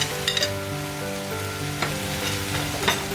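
Mixed vegetables and cashews frying in a pan for a restaurant-style paneer curry, a steady close sizzle with a few scattered stirring clinks and scrapes, no talking.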